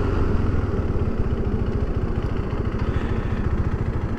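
A KTM 390 Adventure motorcycle engine running steadily on an expressway, a loud, close, even rhythmic drone with no talking.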